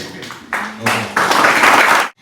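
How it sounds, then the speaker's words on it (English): A school chapel audience bursts into a welcoming round of applause: dense, steady clapping that starts abruptly, swells after a moment and holds before cutting off. "let us all welcome her with a big clap"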